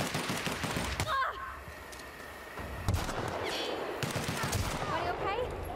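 Gunfire from a gun in The Outer Worlds, a few scattered shots and bursts over a busy game soundscape with a voice briefly heard between them.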